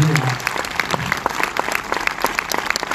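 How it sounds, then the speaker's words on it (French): Audience at a French event applauds steadily throughout, dense even clapping from a crowd, moderately loud and continuous with no pauses. "On peut applaudir Denis Moon pour ça."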